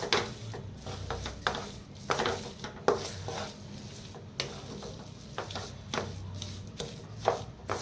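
A spoon stirs a spiced potato filling with fresh coriander for vada pav in a pan, giving soft, irregular scraping and clinking taps, quiet and close, with no talking.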